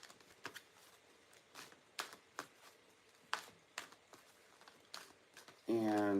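Tarot cards are shuffled by hand in a quiet room, a series of short, soft riffling bursts at irregular intervals, fairly close, followed at the end by a brief burst of someone speaking.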